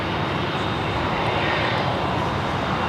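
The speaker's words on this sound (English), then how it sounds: "Also just had a FedEx 767 arrive on the south side at 25 left" A FedEx Boeing 767 arriving on runway 25 Left at LAX, flight in from Memphis, gives a loud, steady jet engine roar that holds broadband and constant throughout, with no talk over it.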